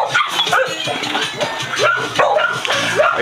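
Several dogs at an animal shelter bark and yip in quick overlapping bursts, some whimpering between barks. They are close and loud, with no gaps.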